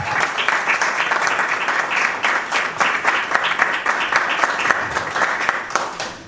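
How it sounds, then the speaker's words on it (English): An audience breaks into sustained applause, many hands clapping in a busy, crackling mass that holds steady and loud from start to finish. "A round of applause for them."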